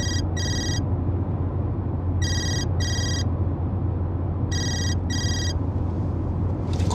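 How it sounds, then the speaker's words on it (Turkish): A mobile phone ringtone chirps in three repeated pairs of bright electronic bursts, evenly spaced over a steady low hum of an engine or room noise, with no talking. "adamın telefonu çalıyor"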